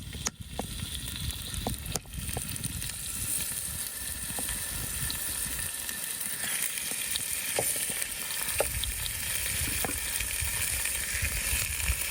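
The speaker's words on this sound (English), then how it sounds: "Frying salo until golden brown is more than flavor." Steady sizzling and crackling of salo frying in a pan until golden, with occasional pops, continuous throughout and no talking.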